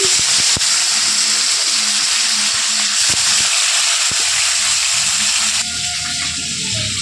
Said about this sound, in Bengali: আমার এখানে তেল গরম হয়ে গেছে, মাছ ছেড়ে দিলাম